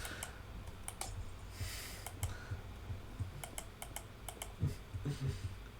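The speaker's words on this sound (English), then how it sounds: "They focus on my mouse clicks." Rapid computer mouse and keyboard clicks during a building game session, sharp close taps coming in irregular bursts over a low background hum.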